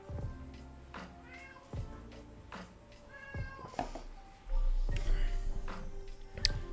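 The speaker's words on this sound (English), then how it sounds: "throw this cat out. He's shouting." Repeated loud meows from a domestic cat, several drawn-out calls spaced across the stretch, close by and insistent, with steady background noise growing louder toward the end.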